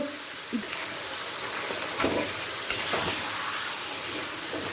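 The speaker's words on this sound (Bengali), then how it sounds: "গ্যাসের ফ্লেমটাকে মিডিয়াম টু হাইয়ে করে দিলাম কচু শাকটা ফুটতে শুরু করে দিয়েছে" Taro leaves with a hilsa fish head bubble and hiss in a pan over medium-high gas, a steady close simmer with a few soft clinks.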